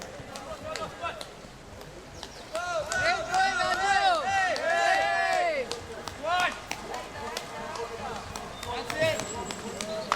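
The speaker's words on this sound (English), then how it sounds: "Take a look at this video of her son actually cheering her on when she's swimming." A boy cheers his mother on as she swims in an Ironman race in Austria, his voice excited and rising among crowd noise and other chatter near the water.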